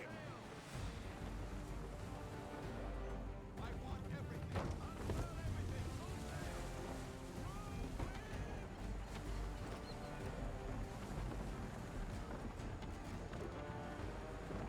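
Sailing ship at sea in Assassin's Creed 3, with steady wind and rushing water around the hull in a continuous wash, voices talking over it.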